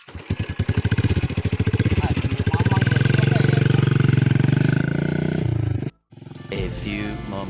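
A motorcycle engine revs hard and close, a loud sustained roar building for several seconds before cutting out abruptly, then a shorter burst of revving resumes.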